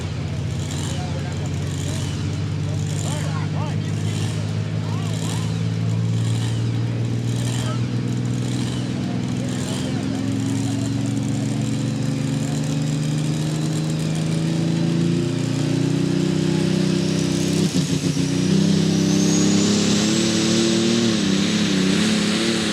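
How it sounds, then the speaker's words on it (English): A super modified two-wheel drive truck at a night truck pull event in Ardmore, Tennessee, its engine roaring loudly and continuously with rising pitch as it pulls, under distant crowd and announcer chatter. "our super modified two-wheel drive class will be the loudest class of the evening"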